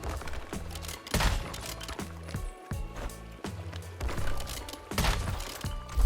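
Sniper rifle shots in the video game Once Human crack out several times, separated by pauses and mechanical clicks of weapon handling, all fairly quiet.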